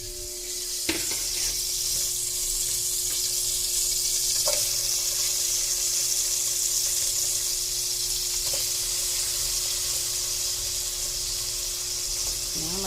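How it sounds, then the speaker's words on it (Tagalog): Tomatoes sautéing in oil give a steady, dense sizzle that runs the whole time, with a few faint clicks of a utensil against the pan. "Kasi igigisa natin ang kamatis."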